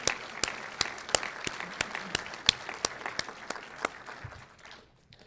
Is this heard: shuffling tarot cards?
no